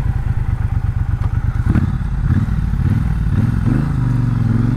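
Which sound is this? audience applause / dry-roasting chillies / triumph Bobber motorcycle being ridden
triumph Bobber motorcycle being ridden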